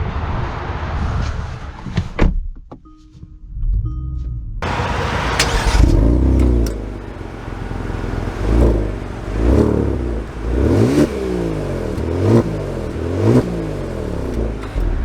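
A 2023 Kia Stinger GT2 moves off and accelerates, its engine note climbing in repeated surges as it revs through the gears, heard close from inside the car after a brief quiet moment with a few clicks.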